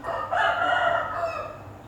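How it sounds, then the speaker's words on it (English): A rooster crows once, a loud, drawn-out, close call that rises and then tails off, with nothing else heard. "that's the rooster who doesn't produce eggs"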